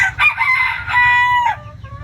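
A hen loudly cackles after laying an egg, with a run of harsh, rising calls close to the microphone over a low background rumble.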